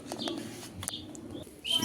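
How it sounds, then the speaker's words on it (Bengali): A large pigeon of a fancy breed, kept on a farm selling show pigeons such as English Barb and Budapest types, gives a few short cooing and chirping calls close by, with quiet rustling between them. "মাশাল্লাহ এত বড় সাইজের কবুতর আবার নদ দেখি ডাকেও ভাই"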